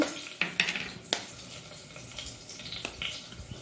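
Garlic, ginger and pepper are pounded in a mortar, making a few sharp, separate thuds and knocks close by at an uneven pace.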